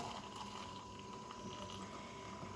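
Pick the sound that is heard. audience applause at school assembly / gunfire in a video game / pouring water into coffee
pouring water into coffee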